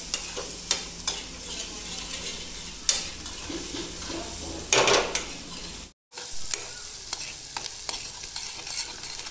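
A spoon stirring green chilli curry with malai as it fries in a pan over a village kitchen gas flame, with steady sizzling and scattered scraping clicks, a louder swish midway, then a brief cut before sizzling resumes.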